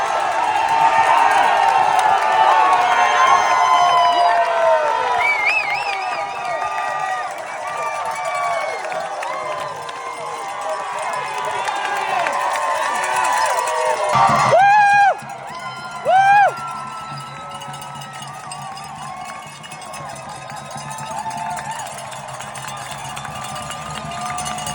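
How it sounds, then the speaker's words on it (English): A large crowd cheers, whoops and shouts at the Western States 100 finish as ultramarathon runners come onto a high school track, a dense, loud, continuous roar with whistles and yells, brief sharp spikes near the middle. "just cheering everybody on, cheering Caleb to the finish"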